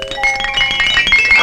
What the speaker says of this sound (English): Why, that's the ting-a-ling bird bell.